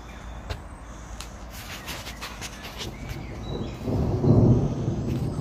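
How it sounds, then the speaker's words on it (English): A low, distant rumble of thunder swells near the end, rising above steady outdoor background noise. "That's thunder."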